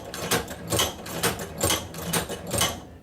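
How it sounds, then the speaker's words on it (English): An Outlaw hand-operated leather sewing machine stitches through leather, its lever action landing in a steady rhythm of repeated mechanical thumps and clacks, six or seven close, moderately loud strokes with no talking. "Then we'll go ahead and continue sewing."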